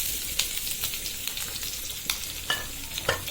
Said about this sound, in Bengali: এবার কেটে রাখা পেঁয়াজ, রসুন, কাঁচামরিচ দিয়ে দিচ্ছি।